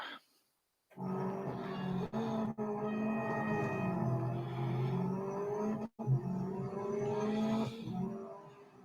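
A Mercedes-AMG race car engine in Real Racing 3 revs and shifts through gears during a track day, rising and falling in pitch with brief cuts between changes, loud and close.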